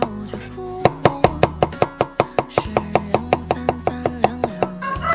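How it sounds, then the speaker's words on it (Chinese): A knife chops garlic into slices on a board in a rural home kitchen, with a fast, even run of about twenty sharp, close knocks and some soft tonal sound underneath. "切上些蒜片我就开炒啊"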